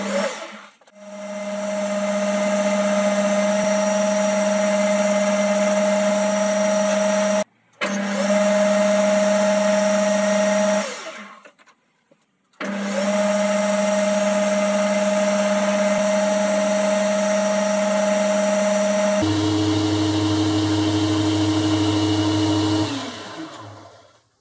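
A metal lathe facing off a brass piece held on a threaded holder runs with a steady whine and hum, stops briefly twice, then restarts and ends at a lower, rougher tone.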